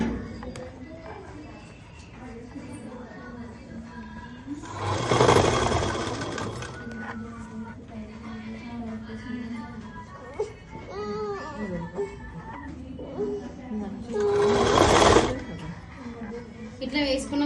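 Sewing machine running in two short bursts while stitching a school skirt, with quiet background noise and faint voices between the runs.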